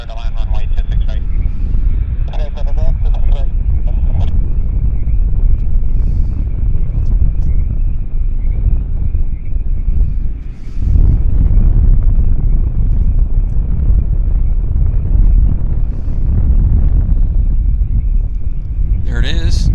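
An airliner on final approach to runway 26 right at Vancouver Airport makes a loud, steady, rumbling roar that holds for the whole stretch, with faint voices beneath it.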